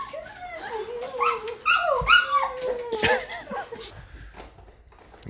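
A dog whines and whimpers in high, wavering cries, close by, with a few soft yips mixed in.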